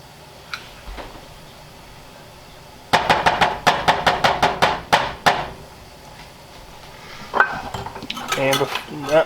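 A spoon stirs sour cream into boiling beef broth in a metal pot, clinking sharply against the sides in a quick regular series of about a dozen strokes, followed by a few more scraping clatters.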